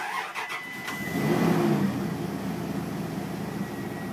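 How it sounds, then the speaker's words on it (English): A Dodge Dakota engine is started near the microphone, with a few sharp clicks and a brief crank before it settles into a steady, even idle rumble that continues with no talking. "So just let it run like that for 5 minutes straight on idle."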